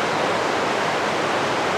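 The Jizera river flowing steadily in the morning, a continuous, close, full rushing wash of water with no break and no voices over it.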